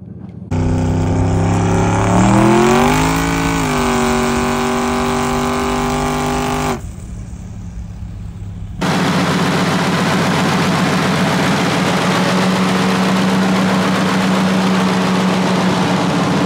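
A Ford F-150 street truck engine roars loudly as it revs, its pitch climbing and then settling into a steady idle. It drops briefly before a second loud, steady engine drone begins, with no talking.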